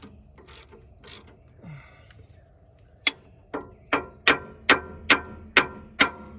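A ratchet wrench loosening a bolt during a front passenger side shock replacement: a few scattered clicks, then a run of about eight loud, evenly spaced ratcheting clicks close to the microphone.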